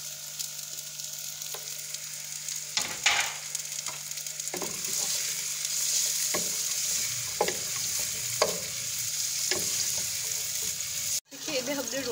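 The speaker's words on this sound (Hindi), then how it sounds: "जो किशमिश है वो ऐड कर देंगे और इसे भी हम 1 मिनट के लिए रोस्ट करेंगे।" Raisins roast in a hot pan for Kabuli pulao, giving a steady sizzle with occasional stirring scrapes and clinks of the spoon against the pan, close and continuous for the whole stretch.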